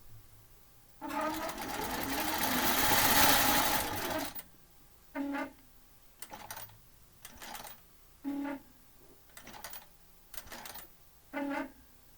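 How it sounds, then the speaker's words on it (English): A computerized quilting machine sews a pantograph pattern, first in a long continuous run, then in a series of short, evenly spaced bursts with quiet gaps between them. "I'm going to hit sew, ensure that the needle is up, holding on to the threads."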